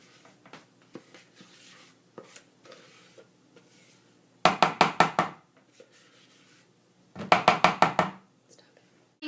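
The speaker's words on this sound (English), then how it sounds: "you can take a spatula so you can scrape out the sides and make it come out faster" A spatula works brownie batter into a pan, soft scrapes and taps mixed with quiet talking, then two loud bursts of rapid rhythmic knocking of about five strikes each as the utensil hits the pan's side.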